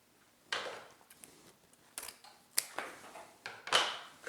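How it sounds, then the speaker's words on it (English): Scissors snip through ribbon, the ribbon cut free from a spring grapevine wreath. Several crisp, close snips and rustles come at uneven intervals, with no voices. "I'm going to go ahead and cut that ribbon free"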